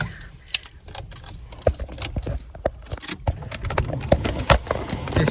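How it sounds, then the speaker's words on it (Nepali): Car keys jangle and clink close by in irregular bursts, metallic rattles repeating over a low background hum. "मलाई गाडीको चाबी दिनुहुन्छ तिमीले।"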